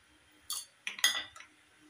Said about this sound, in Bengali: প্রথমে মাছগুলো হলুদ, লবণ আর তেল দিয়ে একটু মেখে নেব।